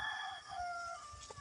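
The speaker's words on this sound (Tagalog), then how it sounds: "May manok guys oh." A rooster crows once at a rural spot, its drawn-out call clear but somewhat distant and faint, with no one speaking over it.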